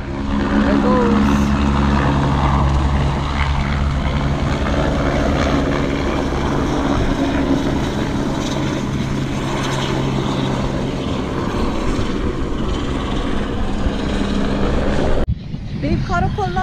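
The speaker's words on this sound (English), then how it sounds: "Helicopter is about to take off." A helicopter taking off: a loud, steady engine drone with rotor-like chopping throbs for a long stretch, then drops off abruptly near the end; voices faintly underneath.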